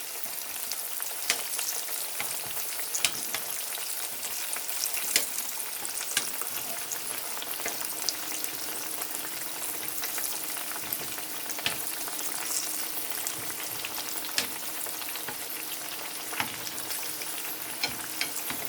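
Lightweight zucchini slices fry in oil in a pan, giving a continuous bright sizzle with scattered pops and crackles, steady and fairly close, with no voices.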